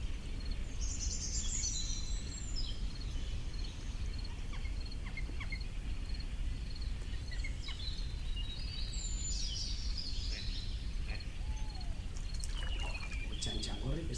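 A chaffinch sings at dawn in a wetland chorus, with two bright descending phrases rising from other distant bird calls over a continuous low rumble.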